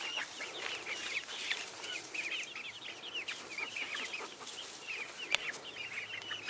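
A flock of chickens clucks continuously nearby, with many overlapping short, bright calls over a quiet outdoor background and no talking.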